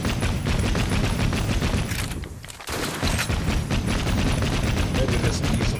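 Dense, continuous gunfire in Assassin's Creed Syndicate, with rapid overlapping shots and booms sustained throughout, briefly dipping for a moment in the middle before the loud barrage resumes.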